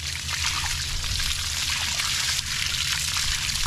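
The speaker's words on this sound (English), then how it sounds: "There's a lot of water gonna come out of that." Water drains steadily out of a small tinny boat that nearly sank, a continuous loud gushing, splashing flow sitting close over a low rumble.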